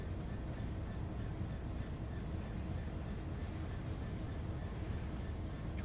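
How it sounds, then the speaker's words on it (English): Steady low rumble of a Class 66 locomotive braking hard in the video game Train Sim World, with a continuous metallic hum and faint periodic high tones, loud and unbroken throughout, no talking. "start applying brakes completely"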